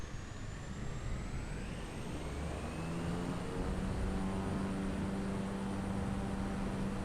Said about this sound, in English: Let's put some power into the engine then.